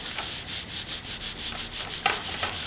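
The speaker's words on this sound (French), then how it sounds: "Et je frotte, et je frotte, et je frotte." A hand rubs back and forth over a paper envelope in quick, even strokes, about a dozen in under three seconds. The dry, close swishing runs in a steady rhythm.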